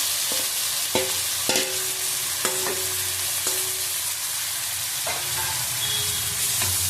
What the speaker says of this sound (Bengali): ভালো করে ভেজে নেব বাটি ভাজা হয়ে গেছে ওর মধ্যে মশলা দিয়ে দেবো পেঁয়াজ কিছু দিলাম